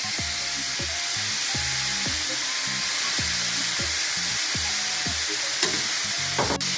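Liver and pork stir-fried with oyster sauce and light soy sauce in a hot pan, with green onions and egg in the dish. A loud, steady sizzle runs throughout, with rhythmic scraping strokes of stirring and a couple of sharp clinks near the end.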